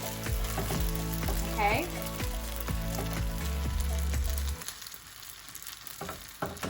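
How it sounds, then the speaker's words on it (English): Fried rice sizzling in a hot pan as it is scraped and pushed aside, with rhythmic spatula scrapes over steady frying that drops away near the end; a brief word is spoken. "I'm starting to see a few brown bits of pieces in there. So I'm gonna go ahead and push all this over to the side."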